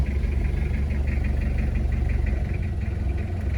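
A 1999 Toyota Kijang LGX diesel engine runs steadily close by, a loud, even low rumble with a rhythmic diesel clatter throughout and no pauses.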